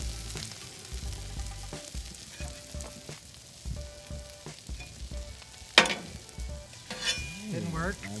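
An egg sizzling on a hot teppanyaki griddle alongside chicken, scallops and fried rice, a quiet steady crackle broken by sharp spatula scrapes and clinks, one louder metallic knock partway through.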